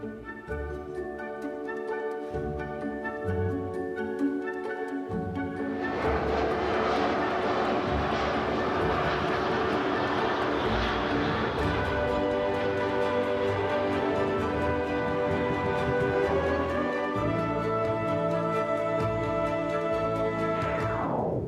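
A British Airways airliner flies overhead, its engine roar swelling from a distant rumble into a loud, sustained broadband wash that holds for many seconds before slowly fading.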